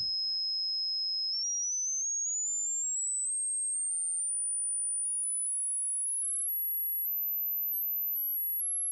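A pure high sine tone begins above 5,000 Hz and glides steadily upward in small steps. It sounds alone and thin, with faint clicks at the very start and end.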